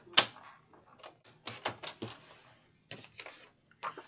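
A sheet is cut down to size with a cutting tool, heard as a series of short, sharp crisp snips and clicks in irregular bursts, close and fairly quiet against a silent background.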